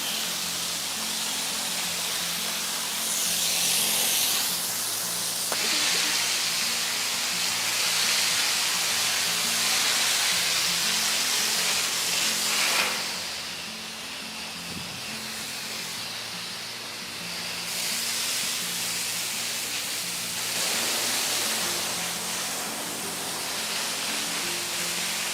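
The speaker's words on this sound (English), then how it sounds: "So now we're going to hose everything down, and then we'll be all done." Water hose spraying down a panda enclosure at a zoo, a long continuous loud hiss that shifts in intensity as the spray moves across surfaces, with no talk.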